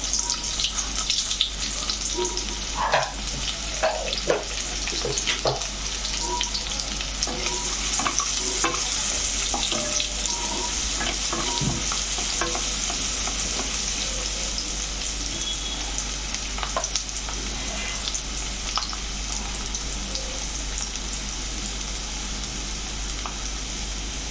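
Chopped medium-sized onion sizzles steadily in a pan, with scraping stir strokes now and then, for cutlets. The frying stays close and continuous and no one speaks.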